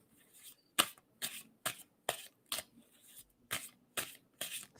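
Hands shuffling a deck of cards, a run of short sharp riffles and taps repeating roughly every half second, close-up and soft, with no voices over it.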